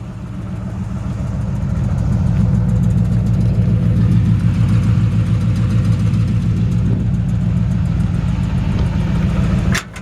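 A 1957 Chevy 3100 old farm pickup truck engine idles steadily and loudly throughout, a deep continuous rumble with a slight rev near the start, cutting off abruptly at the end.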